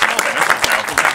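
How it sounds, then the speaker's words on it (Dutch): Audience applause at an art award ceremony, lively clapping with several sharp individual claps popping out of a steady crowd patter, close and fairly loud. "Applaus nog eventjes."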